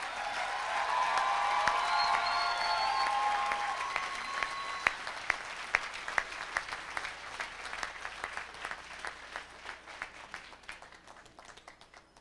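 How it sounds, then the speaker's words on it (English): A commencement audience applauds graduates at a university ceremony, loud sustained clapping from a large crowd that gradually thins into scattered individual claps toward the end. "Let's give a round of applause to the Masters of Planning graduates."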